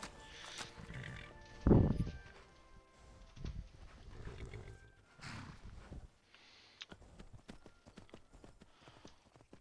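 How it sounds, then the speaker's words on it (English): Horse hooves clip-clop nearby in a video game, with a loud snort or whinny early on, followed by quieter rustling and scattered clicks. "Oh, I heard a horse."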